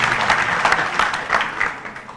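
An audience at a Nagpur political protest rally breaks into a short burst of loud, steady clapping that fills the whole stretch.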